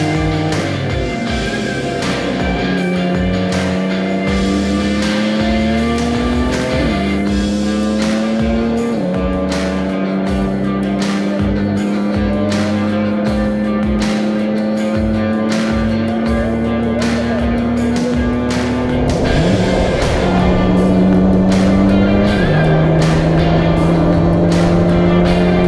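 BMW E46 race car at speed on the Road Atlanta track, heard from the cabin: a loud, steady engine roar climbs through the gears with sharp pitch drops at each upshift and a surge of power around the twenty-second mark.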